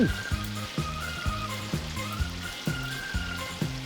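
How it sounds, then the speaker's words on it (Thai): Pork belly fried in fish sauce sizzles steadily in hot oil in a pan, a continuous close crackle with a regular pulsing pattern running underneath and no talking. "ทอดให้เริ่มสุก ให้สีของน้องเริ่มเปลี่ยนสีเป็นสีสวยน่าทานมากขึ้นนะ"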